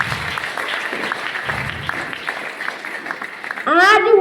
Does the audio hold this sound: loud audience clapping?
yes